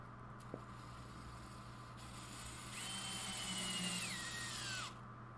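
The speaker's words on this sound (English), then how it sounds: "When screwing in the pocket hole screws" A power drill drives a pocket hole screw into a wooden sofa table: a single rising, whining burst of about two seconds, close and clear over quiet workshop background.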